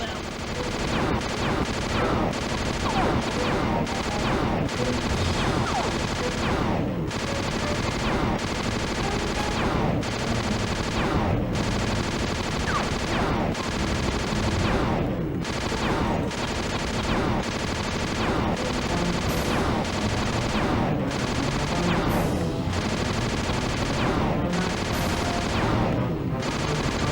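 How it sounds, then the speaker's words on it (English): Under-seeker bombs rain down during a Sly Cooper video game fight, making a dense, unbroken barrage of loud rapid blasts and crackling impacts that lasts nearly half a minute. "Rajan is raining down a bunch of under-seeker bombs on Murray"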